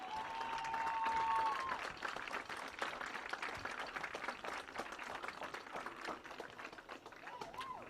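Crowd applause in the stands at a high school football game between Fleming County and Shelby Valley, steady clapping that swells early and then carries on more thinly, with a faint whistle-like tone near the start.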